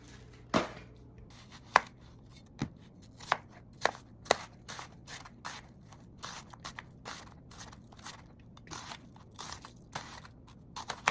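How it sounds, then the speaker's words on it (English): Onions chopped with a knife on a board for homemade spaghetti sauce, a run of crisp close cuts at an uneven pace, some louder thwacks among softer rapid slices. "While I was cutting up the onions"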